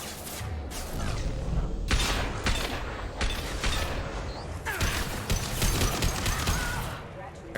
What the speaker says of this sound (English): We'll see how well this assault rifle does